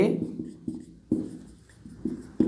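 Quick pen or marker strokes scrape and tap on a writing surface during a maths lesson, a handful of close, short scratches in a row.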